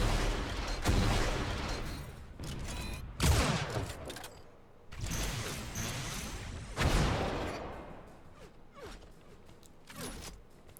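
Weapon shots in a competitive Unreal Tournament match come as several sharp bursts spaced a few seconds apart, moderately loud over a clanking mechanical background.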